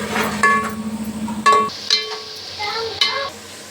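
Ground coriander and cumin spices cook in a pan for chicken biryani, giving a steady sizzle with a few sharp clanks of a spoon against the pan, close and fairly loud.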